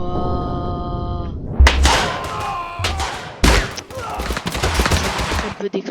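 Explosions and heavy gunfire-like blasts in a video game final battle, a series of sharp loud bursts with rumbling low impacts, close and dense, following a stretch of steady tonal music.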